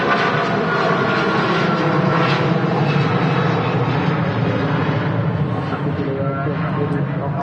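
A Jet2 Boeing 757 rolls for takeoff at Manchester Airport, its jet engines making a broad, sustained roar that stays loud and fairly steady at a moderate distance, with a voice audible over it.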